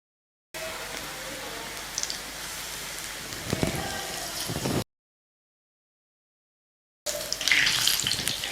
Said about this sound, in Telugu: ఇవి బంగారు రంగు వచ్చేంత వరకు వేయించుకుందాం